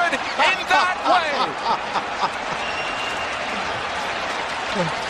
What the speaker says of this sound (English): even the Toronto fans are cheering him on